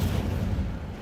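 The Incendio fire spell is cast in Hogwarts Legacy, giving a brief, deep whooshing roar, a low rumbling burst of flame that fades slightly within about a second.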